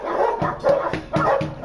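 Game dogs in Genshin Impact barking in short repeated bursts, four yappy barks spaced evenly, close and loud with no voices over them.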